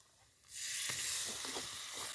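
Onion and garam masala hit hot oil in a pan, a sudden broad sizzle that swells in and holds steady, with a few soft stirring scrapes; close and continuous, no voices.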